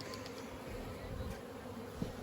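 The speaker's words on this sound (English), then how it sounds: "Right on my finger, I have a bee that's covered in pollen." A honeybee dusted with pollen buzzes at close range near the hive, a steady, low insect drone running continuously over faint outdoor background noise.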